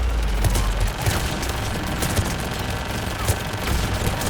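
Dense, continuous gunfire rattles without pause during a firefight on Thessia in Mass Effect 3, loud and busy throughout the short stretch.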